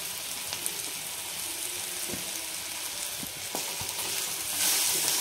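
Radish added to frying coriander and cumin powder spices in a pan, a soft steady sizzle with light scraping and stirring, growing slightly brighter toward the end, close and quiet.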